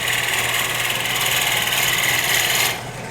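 A lathe drill bores loudly and steadily into a cigar holder blank, a harsh continuous grinding whine with a motor hum underneath, cutting off abruptly near the end and leaving a quieter machine drone.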